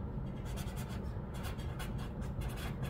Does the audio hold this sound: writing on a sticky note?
yes